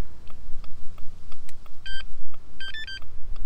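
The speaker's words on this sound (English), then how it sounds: "Okay, it beeped." A Dodge key fob being programmed gives a short electronic beep, then a quick cluster of several higher tones, clear and close against a low steady hum.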